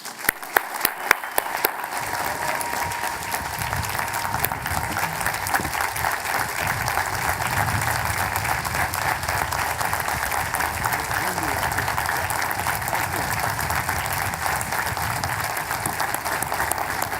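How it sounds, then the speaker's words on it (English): A university commencement crowd applauds Chancellor Mark S. Wrighton, starting with a few scattered claps that swell into loud, sustained applause from a large audience. "Please join me in applauding Chancellor Wrighton for all he has done for the university."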